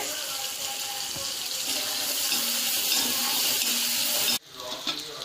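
Onions sizzle and soften in a hot pan for pepper chicken, a steady close frying hiss that runs for about four seconds before it cuts off abruptly, leaving a quieter tail with a few faint clinks.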